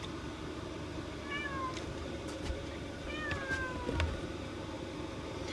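A cat meows twice, short and faint, over steady background noise with a few light knocks.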